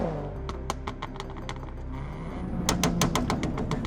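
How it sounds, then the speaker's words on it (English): A factory-tuned exhaust on a tuned Mini Clubman crackles with a rapid string of sharp pops over a low engine rumble, growing louder and denser toward the end. "the popcorn's a little bit obnoxious, but that's a factory tuned exhaust parameter"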